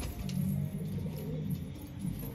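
A Lal Band Ghagra pigeon of the Patiala type coos softly in low repeated throaty pulses, close by but faint, with a light background hum.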